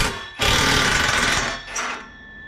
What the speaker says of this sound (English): I'm just going to use the big 1/2-inch impact